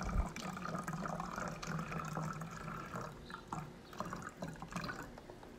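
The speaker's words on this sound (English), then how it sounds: "You want to fill up about half the bottle with vinegar" Vinegar pours into a plastic bottle through a funnel, a steady liquid stream with gurgles and drips running for several seconds, close and fairly loud, with no talking.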